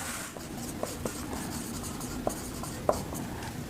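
Chalk writes on a classroom board during an English grammar lesson. Light scratchy strokes and occasional sharp taps carry over a dull room background with no voice.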